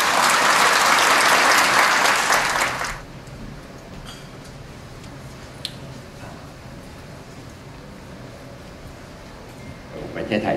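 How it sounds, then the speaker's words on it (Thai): Loud audience applause welcomes a lecturer at a university special lecture. The clapping lasts about three seconds, then drops abruptly to a quiet room with faint background noise, and a little clapping or shuffling returns at the end. "ขอท่านปรบมือเป็นเกียรติต้อนรับท่านด้วยค่ะ"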